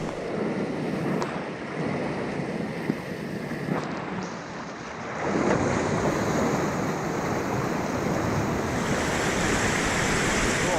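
An inflatable Fanatic Rapid Air 9.6 stand-up paddleboard moves down a river, with steady rushing water and wind buffeting the microphone. The sound grows louder and fuller about halfway through.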